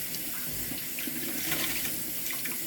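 A steady, close stream of water runs for pancake batter, a continuous splashing hiss that holds the same level throughout with no talking.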